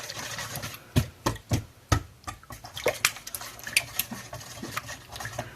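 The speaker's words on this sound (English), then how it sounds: "And now we're just going to whisk this." A whisk works through a cup of milk in a bowl, giving quick clinking and sloshing strokes in an uneven rhythm, close and fairly clear, with no talking.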